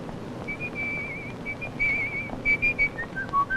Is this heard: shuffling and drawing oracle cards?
no